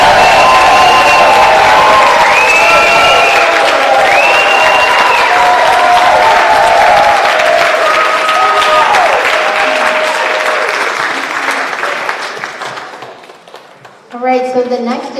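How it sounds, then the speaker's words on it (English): An audience at a startup competition finals cheers and applauds loudly and continuously, the roar gradually fading before a voice starts speaking near the end. "can we give one epic cheer for all the founders and the people who contributed to Startup tonight?"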